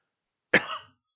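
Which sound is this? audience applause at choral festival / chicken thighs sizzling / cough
cough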